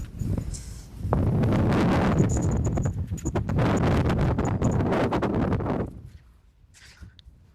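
Strong wind roars across an open hillside in light rain, buffeting the microphone in heavy, sustained gusts that ease off toward the end.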